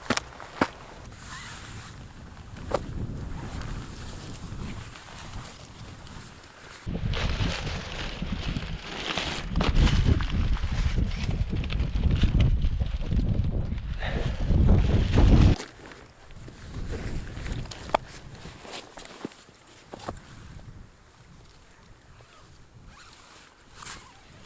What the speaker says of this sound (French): il y a un vent frais là qui s'accélère petit à petit